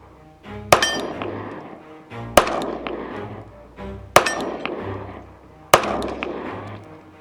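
Palmetto State Armory Dagger full-size 9mm pistol firing aluminum-cased rounds: four loud, sharp reports spaced about a second and a half apart, each with a ringing decay, and no talking.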